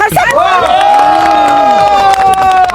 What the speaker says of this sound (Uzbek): Qani, qarsak.